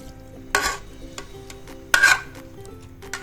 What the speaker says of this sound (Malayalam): പിന്നെ നമുക്ക് ഒരു കുക്കർ എടുത്തിട്ട് അതിലേക്ക് നമ്മൾ മസാല പുരട്ടി വെച്ച ബീഫ് ഇട്ട് കൊടുക്കാം